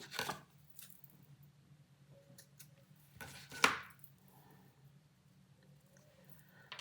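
Scissors snipping through lace for a scrapbook mini album, with a few quiet close cuts and one louder, sharper snip midway against a faint, quiet background.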